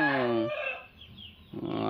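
A rooster crows up close on a farm in Kadapa, India, at the start, a brief pause follows, then another loud crow begins, with no talking.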